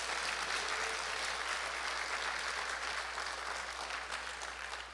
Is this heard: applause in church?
yes